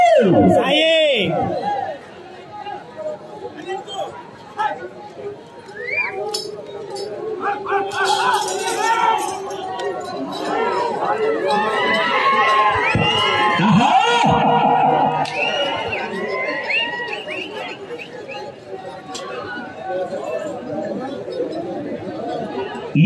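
Spectators at a bullock cart race crowd together in loud, continuous chatter and shouting, with cheering that swells in the middle and holds steady near the end.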